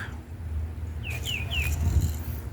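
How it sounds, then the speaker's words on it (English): A few short, bright bird chirps ring out in quick succession over a low, steady background rumble in Painter's Park at Stetson University. "Hear the birds."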